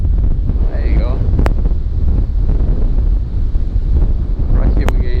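Strong wind gusts buffet a Rode VideoMic Pro Plus fitted with a furry windshield on a GoPro 10, producing loud, continuous low rumble with a couple of brief sharp pops and no clear speech.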